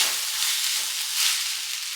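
Vegetable fried rice being stirred in a pan over a low flame, giving a steady, soft sizzling hiss that holds evenly throughout, with no voices.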